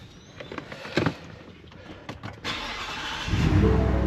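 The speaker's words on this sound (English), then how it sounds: "Start the truck." A Ford truck engine cranks with a few clicks and bursts, then catches and settles into a loud, steady rumble.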